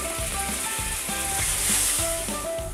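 Spice paste for a Bengali mocha posto ghonto, banana flower with poppy seed, sizzles in a pan after hot water is added, a steady loud hiss with occasional stirring scrapes running throughout, close up with no talking.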